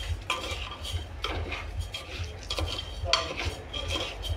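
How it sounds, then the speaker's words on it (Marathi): Basmati rice stirred into a pot for masale bhat, three cups of unwashed grain, giving a steady scraping and clinking of a metal spoon against the pot in repeated strokes, close and fairly loud with no talk. "आता मी तांदूळ ॲड करते, त्यात मिक्स करायचं आहे।"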